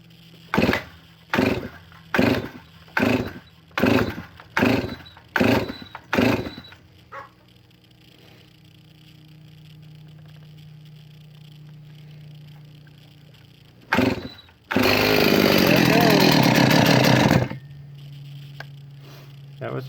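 A restored Stihl 038 Magnum chainsaw is pull-started: about eight quick rhythmic rasps of the starter cord, a pause, one more pull, then the engine fires and roars loudly for around three seconds before cutting out.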